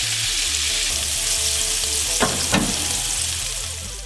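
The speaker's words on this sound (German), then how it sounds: "Als erstes tue ich jetzt mal die Servala-Stückchen anbraten." Pieces of Servala sausage sizzle steadily in a hot pan up close, with two quick scraping stirs partway through before the frying fades slightly.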